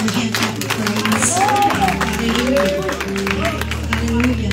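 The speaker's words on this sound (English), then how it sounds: "Give God a hand clap of praise." A church congregation claps hands in praise during a worship service, a dense, steady patter of many hands that carries on for several seconds under voices and other background sound.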